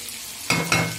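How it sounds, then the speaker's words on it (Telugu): Food frying in a pan, a steady hot sizzle that swells with two louder bursts of stirring near the end, close up, with no talking. "ఇప్పుడు దీన్ని బాగా వేగొట్టాలి."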